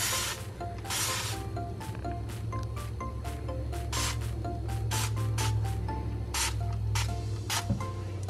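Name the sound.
spraying cleaner from a spray can onto dishes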